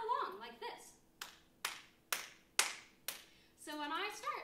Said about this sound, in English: you can clap along like this.